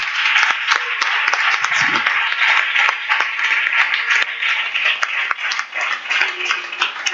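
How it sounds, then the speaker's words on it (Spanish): A church congregation claps during a sermon, continuous crowd clapping with scattered sharp hand claps through a narrow, slightly muffled recording, a brief low thump near the middle. "Aplaude el nombre de Jesucristo."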